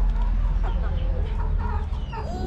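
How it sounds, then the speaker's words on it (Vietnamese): Backyard hens kept for eggs cluck near and loud, with repeated rising clucks and squawks over a steady low rumble of background noise. "Con nuôi gà này"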